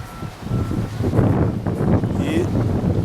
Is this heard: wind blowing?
yes